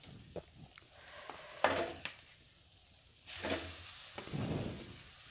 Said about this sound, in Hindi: इन सारी चीज़ों को अच्छे से भून लेंगे